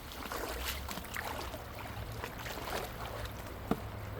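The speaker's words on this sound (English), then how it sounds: "Let's find out with the Yabby pump." Yabby pump drawing up water and sediment during gold prospecting, a steady wet gurgling and trickling wash with a low rumbling undertone, close and moderately loud, ending in a single sharp knock.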